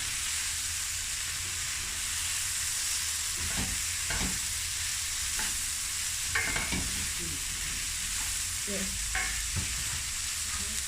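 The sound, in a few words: snap peas and vegetables stir frying in a pan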